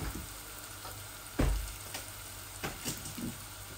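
Chicken pieces fry in a pan for a small home-cooked chicken bhuna, giving a soft, steady sizzle with a few louder crackling bursts and stirring clatters close by, no voices over it.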